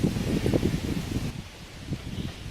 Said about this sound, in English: this wind is killing me